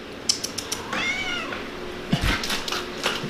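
A pet cat meows once in a clear, drawn-out rising call, close by, surrounded by small clicks and rustles from a paper party blower toy.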